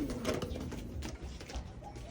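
Pigeons coo softly and flutter close by during recall training, with a few low cooing calls and faint wing rustles over a quiet background.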